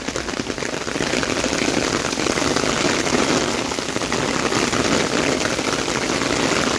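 Heavy rain from a downpour in Keçiören pours down without letup, drumming loudly and densely on a nearby surface.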